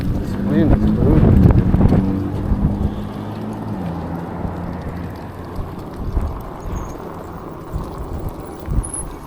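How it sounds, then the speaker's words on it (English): Strong wind roars and buffets against the microphone during a night ride on an eBike through the City of Orange, a loud rumbling gust building over the first seconds and then easing to a steady blustery whoosh with occasional thumps. "Man, this wind is brutal."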